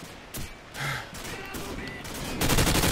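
Gunfire in Call of Duty 4 crackles in quick, uneven bursts, with sharp reports scattered across a few seconds and a denser, louder volley closing it out.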